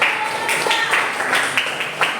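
A primary classroom of pupils claps steadily for a winning work group, with many overlapping hand claps in a bright, even patter and a few sharper accents near the end.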